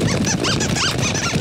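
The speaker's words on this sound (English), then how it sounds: "The squirrels are coming! Squeak! Squeak!" Cartoon squirrels give a rapid string of shrill, bouncy squeaks, loud and close, repeating several times in quick succession.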